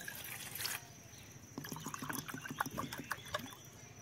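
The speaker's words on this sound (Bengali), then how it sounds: "যে কয় কাপ চা লাগবে সেই কয় কাপ জল দিয়ে দেবো আমি" Water poured into a pot to make tea, with a brief rush of pouring followed by a faint, quiet burble of trickling and splashing liquid nearby, with no talk.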